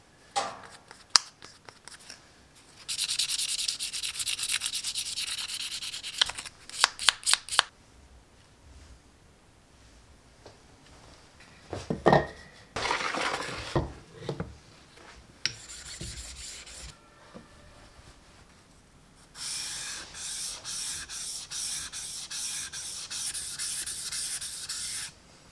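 A tree-shaped kiridashi knife is polished with polishing paste, giving several stretches of close, dry rubbing and scraping strokes separated by quiet pauses and a few sharp knocks.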